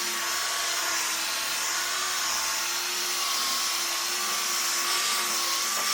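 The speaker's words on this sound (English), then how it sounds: "now we're going to go full trigger on the Milwaukee buffer" A Milwaukee electric buffer runs at full trigger during color sanding and polishing, giving a continuous steady motor whine with a faint wavering pitch, close and alone.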